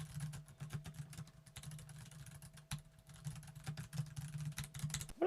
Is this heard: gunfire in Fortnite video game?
no